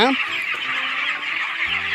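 Chickens on a broiler farm cluck and call in a dense chorus, with a few louder honking squawks standing out near the start and end.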